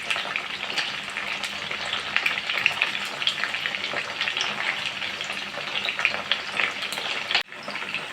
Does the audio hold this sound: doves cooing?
no